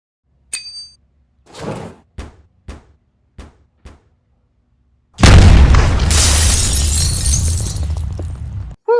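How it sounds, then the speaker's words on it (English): A loud explosion set off to test a bronze-plated Pelican case bursts in after several short knocks, a broad roaring blast that sustains for a few seconds before cutting off. "that was some explosion"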